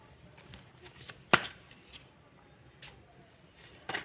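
Tarot cards are shuffled in a quiet room, with one sharp riffle burst followed by faint flicks and soft slides of card stock, near and light.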